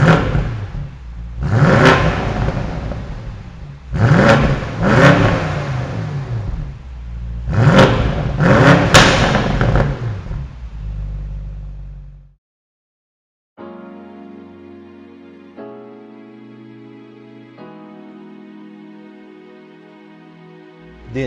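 A 2019 BMW M850i Convertible engine blips and revs repeatedly, four loud close surges with a deep throaty note. The revs break off into silence, then a steady tonal hum carries on alone.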